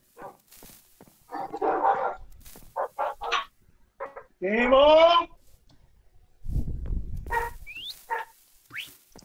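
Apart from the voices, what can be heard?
dogs barking in the video game Minecraft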